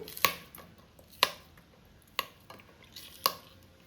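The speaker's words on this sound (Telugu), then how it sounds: "ఇలా పచ్చిమిర్చి ఇలా కట్ చేసుకోండి" A knife cuts green chillies on a board in a home kitchen, giving five or six crisp close taps spaced roughly a second apart, with quieter small knocks between them.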